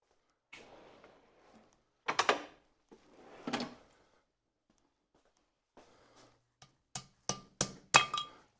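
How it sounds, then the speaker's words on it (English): A hammer strikes metal wheel bearing parts, a few scattered clinks early on, then a quick series of five or six sharp, close taps near the end, with quiet gaps between. "Let me get a hammer"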